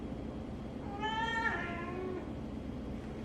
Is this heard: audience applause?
no